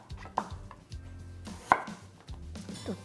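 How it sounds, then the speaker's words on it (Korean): A knife slices radish into thin square pieces on a cutting board for beef radish soup, a few sharp irregular chops with quiet pauses between them and no talking. "그 다음에 나박 썰기를 할 거예요"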